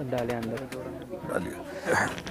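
Shahjahanpuri pigeons coo softly in short throaty phrases while someone talks over them nearby.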